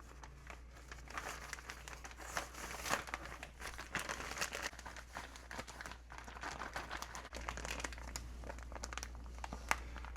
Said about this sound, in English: We're going to now put this in a plastic bag.